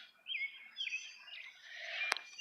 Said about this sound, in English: So that's our first bird of the day, a red bird.